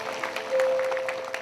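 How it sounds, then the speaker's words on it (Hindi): Short burst of audience applause at a Hindi-language prayer meeting, a brief swell of clapping from a gathered crowd over about a second and a half. "जोरदार तालियां परमेश्वर।"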